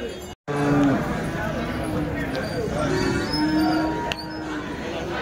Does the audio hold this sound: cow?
yes